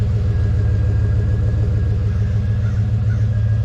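A 1989 Chevy K1500 truck with a brand new engine idles steadily up close, a loud, even low rumble with a faint whine running through it and no voices.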